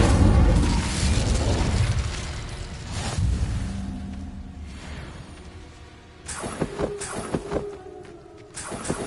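Incendio fire spell cast in Hogwarts Legacy, a booming burst of flame with whooshing rushes, followed by several sharper impact pops and clanks toward the end amid game effects.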